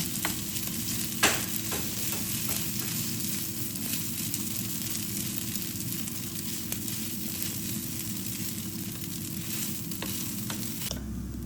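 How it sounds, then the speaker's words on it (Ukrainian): Steady sizzling of batter frying in a pan, a continuous crackling hiss with occasional small pops, throughout. "І починаємо смажити"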